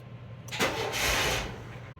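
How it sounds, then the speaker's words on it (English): A custom car engine with its belt disconnected cranks and catches at a push-button start, a brief whirring churn that settles into a rough, close idle before cutting off. "make sure it actually starts when I push the push to"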